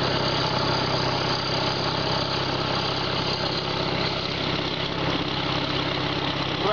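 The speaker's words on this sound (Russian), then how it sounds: "Трактор Кировец К-700 пошел по целине, как по расчищенной дороге." Kirovets K-700 tractor engine driving through deep virgin snow while towing a load, a steady, loud diesel drone with heavy low rumble and vibration throughout, no voices.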